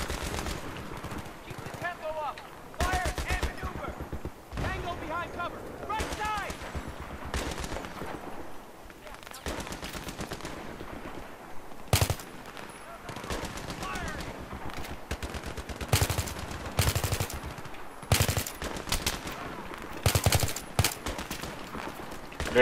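Battlefield 3 single-player campaign gunfire: bursts of automatic fire and scattered single shots crackle on and off across the clip, loud and close, mixed with game sounds and intermittent talk.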